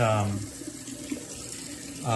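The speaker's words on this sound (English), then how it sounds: "I put it in the colander again, run some cold water on them, and just rinse them off" Cold tap water runs through a colander over freshly caught shrimp, a steady splashing hiss that swells at the start and end, with a voice talking over part of it.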